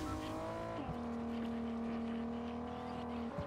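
A car in the Fortnite video game drives with a steady engine hum, shifting pitch as it accelerates and settling into a constant drone, loud and close with no talk over it.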